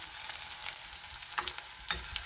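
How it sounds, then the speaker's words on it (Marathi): Finely chopped onion sautéing in hot tempering oil for misal: a quiet, steady sizzle with a few light stirring scrapes and no voices. "आता आपण जो बारीक चिरलेला कांदा आहे तो फोडणीत घालायचा आहे आणि चांगला परतायचा आहे."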